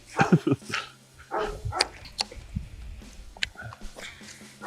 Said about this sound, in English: We got a big dog barking.